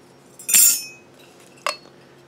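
A metal stand for a titanium Evernew alcohol stove being handled, giving one bright clink followed by a softer second tap, close and alone.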